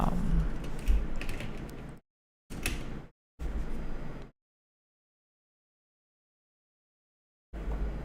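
Keys clattering on a computer keyboard with keycaps, quiet clicky bursts broken by sudden silent gaps, close and soft with no voices.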